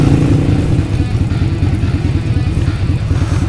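Several motorcycles idle and rumble loudly close by at a Texas motovlogger meetup, a continuous throbbing engine drone with no clear talk.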